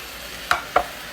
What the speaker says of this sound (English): we're just going to mix this up here a little bit, let it get heated